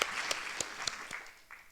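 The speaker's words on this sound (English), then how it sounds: "give the organisers, and in particular Gediminas, a massive round of applause at this point" An audience at an arts and ecology talk applauds the organisers with a brief, fairly faint round of clapping that fades out after about a second and a half.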